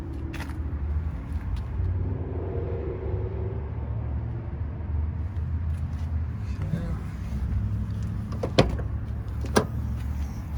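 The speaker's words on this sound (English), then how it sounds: "Raise that gate up with no problems." A 2002 Toyota 4Runner Limited 4x4 with 256k miles has its rear gate raised on working struts: a steady low rumble with a faint motor whir, then two sharp clicks near the end.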